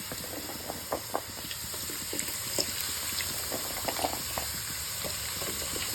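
Potato slices frying in hot oil in a pan, a steady soft sizzle dotted with irregular small pops and crackles, fairly quiet and close, with no talking.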